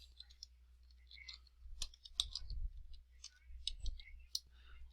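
Faint, scattered keystroke clicks on a computer keyboard come in short irregular bursts, close by and quiet, with no talking.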